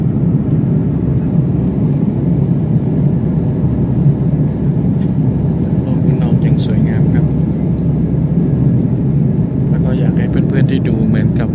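Steady airliner cabin roar during a Thai Airways flight from Phuket to Bangkok, a continuous low rumble and whir of engines and airflow that stays even and loud throughout, with a few faint higher clinks near the end.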